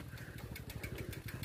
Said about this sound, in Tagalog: Tabi tayo may motor.